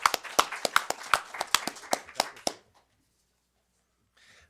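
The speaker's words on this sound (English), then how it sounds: "We have to applaud that one." A few people applauding at a county board of supervisors meeting, a sparse burst of crisp claps lasting about two and a half seconds before cutting off to near silence.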